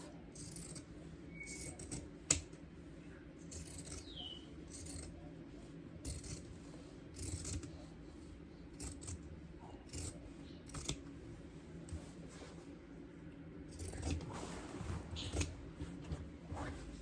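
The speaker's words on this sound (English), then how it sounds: "you can just trim from notch to notch" Pinking shears snip fabric pieces for sewing 3/4-length pajama pants, trimming from notch to notch. Quiet, close cuts repeat in an irregular rhythm over a soft background, with no talking.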